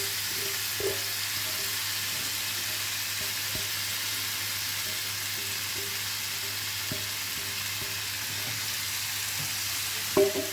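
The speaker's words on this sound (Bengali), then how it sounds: "এখন আমি টমেটোগুলো ঢেলে দিচ্ছি।" Tomatoes frying in a pan, a steady broad sizzle holding throughout with a few faint clinks of stirring and a small clatter near the end.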